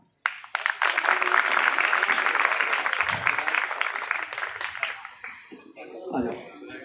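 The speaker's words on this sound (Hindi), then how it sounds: "बस जोर से तालियां बहुत।" Applause from a crowd at a village honoring ceremony, a sustained round of clapping lasting several seconds that fades out, with voices speaking over it.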